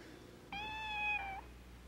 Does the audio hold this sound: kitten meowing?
yes